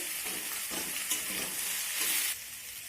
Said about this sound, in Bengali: এখন এই সবজিগুলোকে একটু নেড়ে চেড়ে নেবো